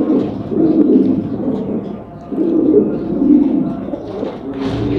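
Blue Bar pouter pigeons at a loft cooing close by in low, throaty rolling bursts, two long phrases separated by a short pause, with faint background noise.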